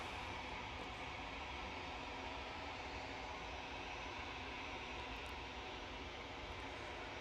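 A jet airliner touching down on landing at Manchester Airport, a steady broadband engine roar heard from a distance, continuous and fairly even throughout, with no voices.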